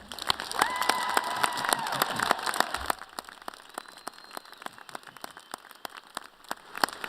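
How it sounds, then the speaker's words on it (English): At a university spring commencement, the audience breaks into loud applause, a dense wash of clapping that fades to scattered claps and sparse sharp hand claps. "Graduates, let's give those who supported you a round of applause."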